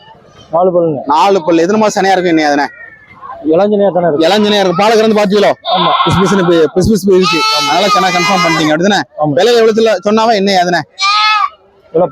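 Goats bleating at the Ettayapuram goat market, loud, wavering calls repeating close by one after another, mixed with people talking and bargaining.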